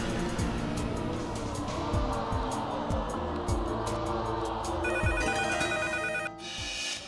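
A telephone ringtone sounds for an incoming call on a studio dating game show stage, its steady electronic tones rising over a busy background of music and room noise toward the end.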